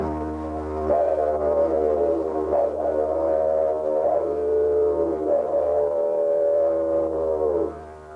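A continuous didgeridoo drone carries a long, wavering vocal howl across the top, imitating a dingo, Australia's native dog; the sound is close and steady, ending abruptly near the close.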